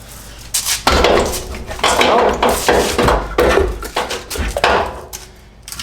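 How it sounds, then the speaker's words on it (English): Slide hammer knocking out a Toyota CV axle: a run of sharp metallic knocks and clanks, close and loud, coming in an irregular series of about eight strikes with no talking. "at this point we're going to swing the hammer out. The axle is going to pop off"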